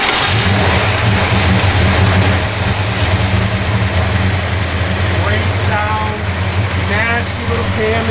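A 1966 Dodge Coronet 500 V8 with a cam rumbles loudly at close range, a lumpy idle that is blipped and revved, while people talk nearby.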